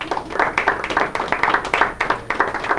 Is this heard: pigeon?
no